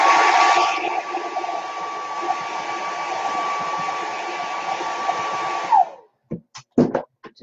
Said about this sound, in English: Let me blow dry this